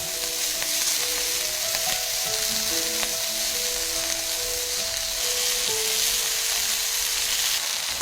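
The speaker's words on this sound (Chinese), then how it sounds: "你以为是这几片煎得特别诱人的五花肉吗？" Slices of pork belly fry in a pan with a steady, close crackling sizzle of hot fat, uninterrupted throughout, along with a few faint tonal beeps.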